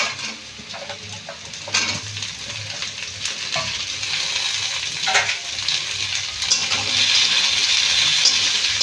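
Potatoes and onions fry in a pan with steady broadband sizzling that swells louder over time, broken by a few stirring scrapes and brief crackles, with no talking.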